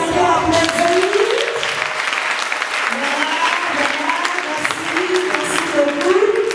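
A youth group's audience at a training session breaks into loud, sustained applause, with voices cheering and calling out over the clapping throughout.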